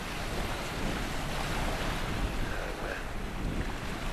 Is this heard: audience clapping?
no